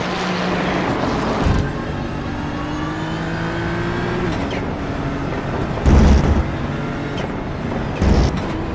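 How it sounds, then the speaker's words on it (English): A GT3 racing engine in a video game drones steadily with rising and falling pitch as it shifts through gears, with a few louder bursts, at Rudskogen. "you just hear that engine fluttering as he jumps between the gears"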